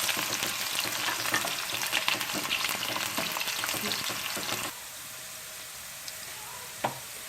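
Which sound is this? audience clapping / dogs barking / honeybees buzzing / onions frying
onions frying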